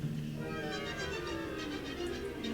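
Sustained orchestral tones from Saint-Saëns' Danse Macabre swell and waver softly, with high airy shimmer drifting above low held notes, imitating a howling wintry wind.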